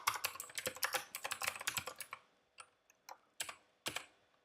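Fast typing on a computer keyboard as Go code is written, with a rapid burst of close key clicks followed by a few slower, separate keystrokes.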